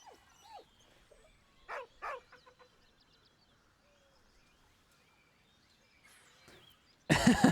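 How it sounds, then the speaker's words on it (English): Dog barking and whining in Baldur's Gate 3, scattered yips and short barks with faint whimpers across quiet gaps, ending in a sudden loud burst of noise. "If you don't know how to speak with animals, he just barks."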